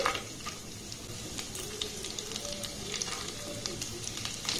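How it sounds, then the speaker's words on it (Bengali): Chopped almonds, cashews and raisins fry in a pan, giving a low, even sizzle with faint crackles and scattered small clicks from stirring, heard close and quietly without voices. "এবার সমস্ত ড্রাই ফ্রুট গুলোকে একটু নাড়াচাড়া করে ভেজে নেব"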